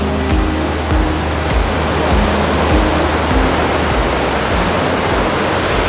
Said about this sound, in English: Okay, we are going to see the waterfall.